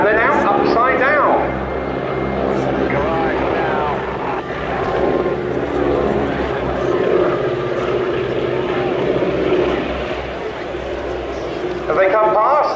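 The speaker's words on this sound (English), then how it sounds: "As they come past, the number three pilot in the team is Steve." Wing-walking biplanes of an aerobatic display team fly past at an air show, a steady loud droning engine roar that swells and fades, with a commentator talking over it throughout.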